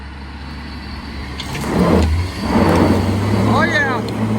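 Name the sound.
truck engine revving to pull out of a hole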